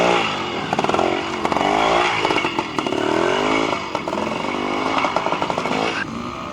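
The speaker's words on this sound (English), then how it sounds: "I'm in a change of machine today, riding one of Alan Smith's 2-strokes" A two-stroke motorcycle being ridden close by, its engine buzzing loudly and rising and falling in pitch as the rider works the throttle, with no voices.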